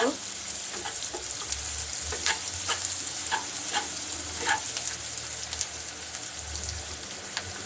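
Long beans and potatoes fry with salt in a pan, browning under a steady crackling sizzle punctuated by scattered sharp pops and light stirring clicks throughout.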